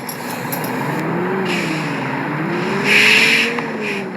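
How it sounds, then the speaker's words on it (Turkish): Engine of a pink intercity bus in the Bus Simulator Ultimate game, a steady droning hum that rises gradually in pitch as the bus pulls away, with a brief brighter hiss partway through and no talking. "Pembe otobüsümüzle yolculuğa başlıyoruz."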